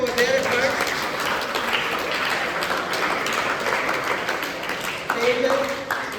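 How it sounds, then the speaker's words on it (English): An audience applauds a quiz team at an orientation programme quiz, steady, moderately loud clapping from many people filling the whole stretch, with a voice briefly audible beneath it. "Claps for them for their efforts."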